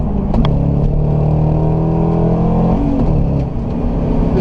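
C5 Corvette convertible with a stick shift accelerating on the road, its engine a loud, steady, close drone that climbs through the revs, with a brief shift change partway through and no talking.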